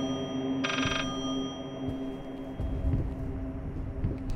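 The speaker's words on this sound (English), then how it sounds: "Where's the fucking phone at? I hear it ringing." Telephone ringing in the horror game Layers of Fear: a short, bright electronic ring bursts out once near the start, then gives way to low rumbling and muffled thuds in a dim, droning room.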